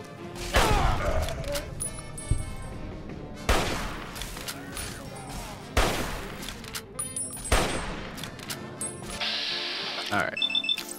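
Bursts of gunfire in Fallout come in several loud volleys spaced a couple of seconds apart, each a sharp rattling cluster of shots with echoing tails, mixed with game beeps and effects.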